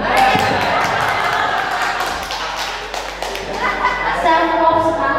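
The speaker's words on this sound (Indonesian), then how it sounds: "Tepuk tangan." Hands clapping in a room during a teacher training session, a dense, close burst of claps that runs on for about five seconds, uneven and slightly louder toward the end.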